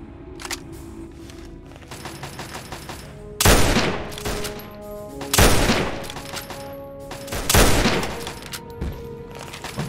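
A hostile turret fires on super mutants in Fallout 3, a steady stutter of rapid shots with three heavy loud bursts standing out, no voices over it.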